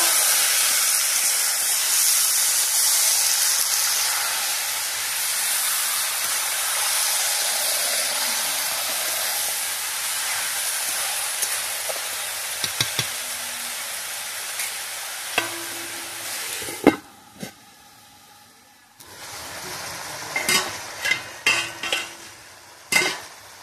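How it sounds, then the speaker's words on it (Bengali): Chicken pieces sizzling in oil with cumin seeds and whole garam masala in a kadai, a loud continuous hiss with sharp scraping clicks from stirring that grow sparser and quieter toward the end. "আমি মাংসটা দিয়ে দিয়েছি কড়াইতে। এবারে ভালো করে নেড়ে নেব।"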